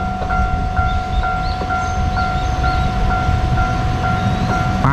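A steady rumbling roar of a passing train in rural Japan with a sustained tonal hum and faint rhythmic clicks, continuous and fairly loud throughout.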